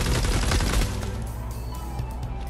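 Rapid, loud gunfire from a gun in Fortnite Save the World, a fast burst of shots up front that thins into scattered shots with a lingering rumble.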